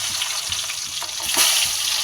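Fish heads dropped into hot oil for frying, a loud dense crackling hiss close by that swells near the end, with no voices.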